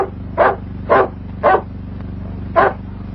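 A dog barks four times outdoors at night after rain, sharp, well-spaced barks at moderate distance over a constant low hum.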